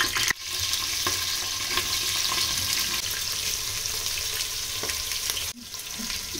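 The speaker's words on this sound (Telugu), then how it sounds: "దాని తర్వాత ఇక బిర్యానీకి పెట్టుకున్న మసాలాలన్నీ కొంచెం ఆ నూనె వేడయ్యాక ఒకటి దీంట్లో వేసుకోవాలన్నమాట" Whole spices and biryani masala fry in hot oil in a pan for chicken biryani, producing a close, steady sizzle with occasional stirring scrapes.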